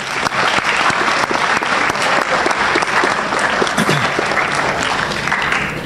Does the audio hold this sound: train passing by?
no